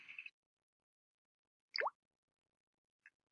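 A coin drops into water with a single soft plop, and a faint trailing drip follows. Each is close and brief, set against near silence.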